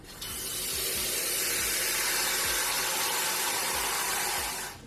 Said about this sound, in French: Du coup là je vais l'arroser.